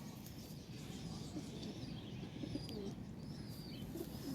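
A pigeon of a prized breed coos in low, throaty murmurs, continuous and close, with thin chirps of other birds scattered above.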